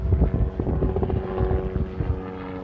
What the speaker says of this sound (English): Helicopter passing over too.